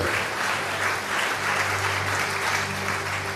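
Congregation clapping during a Sunday worship service in a church, sustained and dense applause from many hands filling the room steadily, with a low hum underneath.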